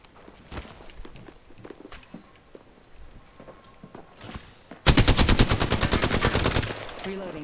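Apex Legends gunfire: scattered single shots and footstep-like thuds give way to a long, loud burst of rapid automatic fire with evenly spaced cracks, close and dominant.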